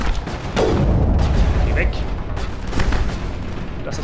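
Sharp, booming gunshots in the video game Mass Effect ring out over a rumbling background, and someone speaks briefly between the shots.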